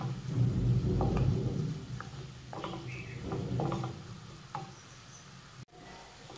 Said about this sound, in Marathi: हळद मिक्स करून घेतल्यानंतर हे मिनिटभरासाठी परतून घेऊयात